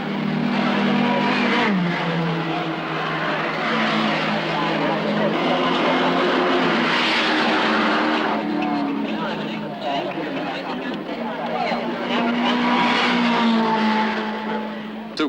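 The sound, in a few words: touring cars racing at the 1970 Bathurst 500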